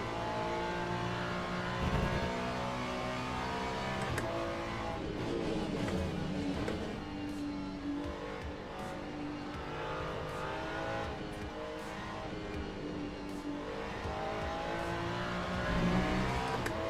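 A Porsche race car engine in Le Mans Ultimate revving and shifting continuously, a high sustained drone rising and falling through the gears with occasional tire squeal, close and steady throughout.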